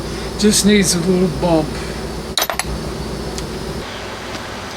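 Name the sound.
air conditioning running in the background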